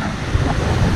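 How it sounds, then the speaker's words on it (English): River rapids and drops rushing past an open rocky riverbank in Point Grondine Park on a canoe trip, a loud, steady broadband roar of churning water with no break. "there's a bunch of rapids and drops"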